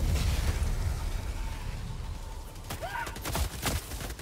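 A burst of gunfire and explosions in a video game, dense rumbling blasts and rapid shots at moderate volume, with sharp cracks and a short tonal effect near the end.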